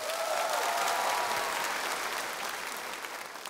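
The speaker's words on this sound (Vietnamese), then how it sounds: "Quý vị khán giả có thể cho họ một tràng pháo tay thật lớn được không ạ?" Enthusiastic audience applause fills a large venue for talent show performers at a gala final, a dense steady clapping that slowly tapers off.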